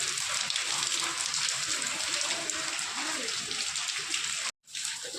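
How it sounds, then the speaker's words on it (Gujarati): Heavy rain falling steadily outside a home kitchen during a power cut, a dense continuous hiss with faint low voices underneath and a brief dropout near the end. "વરસાદ આવવા માંડ્યો છે"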